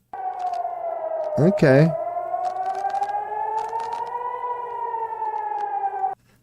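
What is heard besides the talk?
civil defense sirens going off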